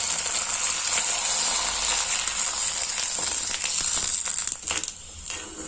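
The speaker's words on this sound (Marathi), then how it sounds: "पापड तळताना एकदम छान असे फुलून येत. आता मी इथे एकदा 2 पापड टाकते." Papad fries in hot oil with a loud, steady, crackling sizzle up close that drops off and thins out near the end.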